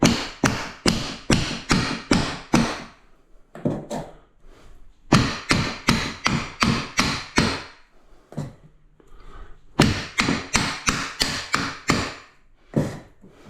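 Sharp, rapid taps in quick bursts, a rubber mallet knocking on bathroom tiles, with short pauses between each run of strikes.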